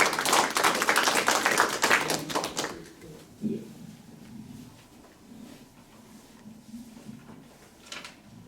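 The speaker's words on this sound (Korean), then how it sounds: "다시 한번 큰 박수 부탁드립니다." Loud, dense applause from a conference audience fills the first few seconds, then stops abruptly and gives way to a quiet hall with faint murmurs and a soft tap or two.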